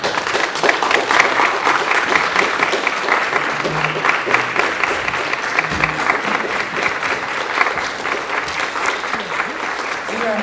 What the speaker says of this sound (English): I want everybody to give a standing round of applause, because they did a wonderful job today